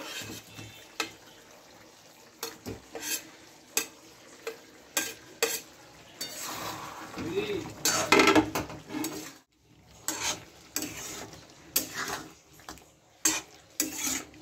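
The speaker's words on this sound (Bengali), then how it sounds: "আলুগুলো দিয়ে এবার ভালো করে নেড়ে নিলাম।" Fried potatoes being stirred into a thin chicken curry in a pot, with intermittent scraping and clinking of a spoon against metal over a soft sizzle, close and fairly quiet.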